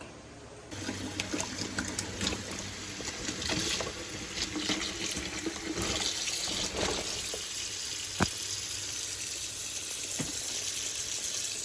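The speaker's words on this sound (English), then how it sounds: "Now it is time to clean all those beans and get them washed." Tap water runs steadily into a sink while green beans are washed, a continuous wash of splashing and trickling with a few louder knocks and clatters, fairly close and without speech.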